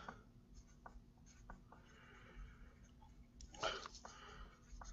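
Marker scratching across a board in a quiet room, faint intermittent strokes with one louder burst of writing near the end, and soft breathing in the background.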